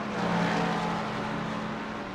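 iRacing cars drafting at Daytona during the 24 Hours produce a constant, close engine drone with a steady buzzing tone and little change in pitch, free of talk.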